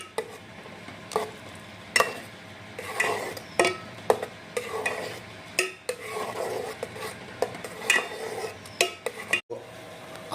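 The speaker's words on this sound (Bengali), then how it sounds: "আর এবার মশলাটা ভালো করে ডাল আর চালের সাথে মিলিয়ে নিতে হবে।" Spice paste being mixed into dal and rice in a pot for bhoger khichuri, heard as repeated scraping spoon strokes against the metal pot with clanks and a faint sizzle, close and steady with no talking.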